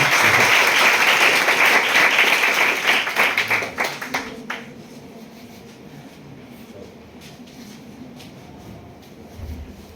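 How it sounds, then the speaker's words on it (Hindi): Loud, dense applause from an audience at a school ceremony honouring matric and intermediate exam results, welcoming a guest to the stage. It rolls steadily for about four seconds, then thins out and dies away into quiet room tone. "जोरदार ताली से स्वागत करें।"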